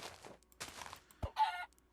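Minecraft chickens give a few short, quiet clucks in a sparse, irregular pattern, with brief pauses between each cluck.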